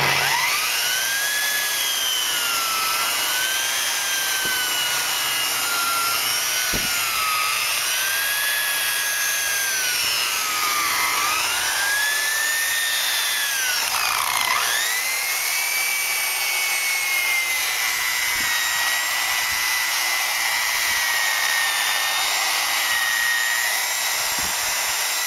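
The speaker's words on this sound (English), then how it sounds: "it is easier to do this with a buffer" A buffer polishing a car headlight gives off a continuous high-pitched whine whose pitch wavers and dips as pressure changes, with occasional soft knocks and rubbing underneath.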